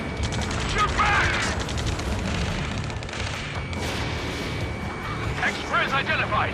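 Sustained gunfire and explosions from a ground battle near a space elevator in the video game Ace Combat 7: Skies Unknown, dense and continuous with bursts and booms, voices shouting over the din.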